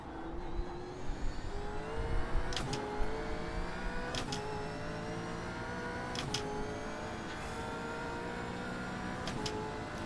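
The engine of a Gen 3 Camaro race car hums steadily in the iRacing video game at Mount Panorama, Bathurst, with rising gear pulls and sharp gearshift blips every couple of seconds, at moderate volume and without talk.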